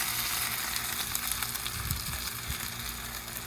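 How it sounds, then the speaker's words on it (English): Food sizzles steadily in grapeseed oil in a medium Salad-Master saute pan as it browns, a constant crackling hiss with a few soft clinks and stirs near the middle. "Get a nice sizzle, and we want to brown this up and get a nice brown on here."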